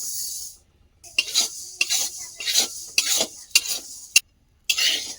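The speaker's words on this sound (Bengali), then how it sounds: "এখানে কিন্তু একটা শুকনো কড়াইতে এই মুগের ডালটা ভেজে নেব।" Moong dal dry-roasting in a dry wok, stirred in repeated scraping strokes with brief pauses between, close and fairly loud with no talk.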